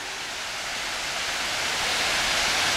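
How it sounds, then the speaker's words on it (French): Cascade du Dard waterfall in the mountains, a steady, dense roar of falling water close by that swells slightly louder toward the end, with no voices. "Petit aperçu de la cascade du Dard."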